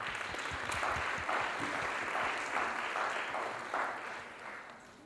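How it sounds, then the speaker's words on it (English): Audience at a Bharatanatyam rangapravesam gives a sustained round of applause for the guru and parents, dense steady clapping filling the hall and gradually tapering toward the end. "I want to heartfully give them a big round of applause."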